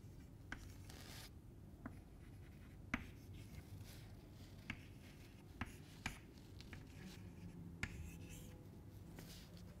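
Chalk or marker on a board writing a row of numbers during a lecture, faint scratchy strokes with a few sharp taps as each figure is finished, quiet and close against low room noise.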